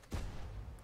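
One heavy boom from an STB-1 tank's main gun in World of Tanks, on the Malinovka map, fires close and loud, then leaves a lingering rumbling tail for under a second.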